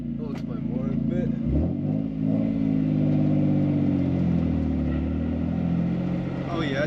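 A drift car's engine revs and rises in pitch, a steady mid-range drone loud throughout with a brief dip near the two-second mark, while a voice speaks over it.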